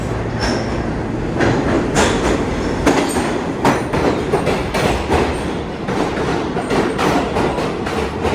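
A train runs along the rails, loud and close, with a continuous rumble, repeated clickety-clack wheel beats and occasional squealing from the wheels, heard on its own without talk.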